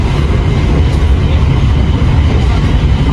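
Argo Dwipangga express train running fast at 112 km/h in heavy rain, heard from inside as a loud, continuous low rumble and roar with a steady wash of noise and no distinct clicks.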